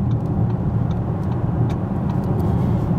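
Audi Q7 55 TFSI e quattro plug-in hybrid SUV under hard acceleration, a steady low engine and road drone filling the cabin at constant loudness with no pauses or voices.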